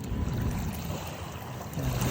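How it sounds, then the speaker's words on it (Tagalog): Sea waves wash steadily along a shore on a breezy, cool evening, a broad continuous rush of surf with a swell in the closing moments, heard alone without voices. "Napakinggan mo lang ang, uh, ang alon ng dagat."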